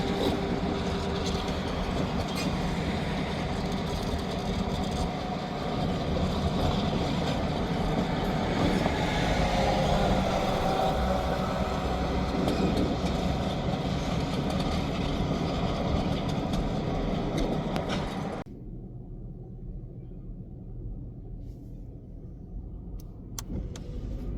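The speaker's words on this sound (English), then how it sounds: "they're going to hook onto this train" A freight train rumbles and clanks steadily as cars move along the track during switching, then the noise drops off abruptly to a quieter hum.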